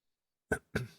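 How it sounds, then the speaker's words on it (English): A person coughs twice in quick succession, close and fairly loud, with a brief pause between the two harsh bursts and silence before them. "Excuse me, I've got a cough."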